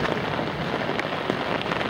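Heavy summer rain pours down during a thunder and lightning storm, a dense steady hiss of drops striking surfaces with occasional louder spatters.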